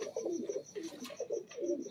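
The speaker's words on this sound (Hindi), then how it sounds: "ये दोस्तों तीसरा कबूतर है जो मैंने लिया है।" A pigeon coos in soft, repeated low rolling phrases, close by, with faint higher bird chirps in the background and no talk.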